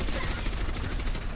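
Orisa's minigun in the Overwatch video game fires as a dense, continuous rapid burst of gunfire, loud and steady throughout.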